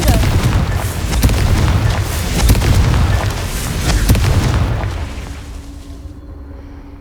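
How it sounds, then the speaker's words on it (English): Confringo fire-blast spell exploding in the Hogwarts Legacy video game, a run of loud booming bursts with crackling impacts and rumble that fades out toward the end. "Confringo!"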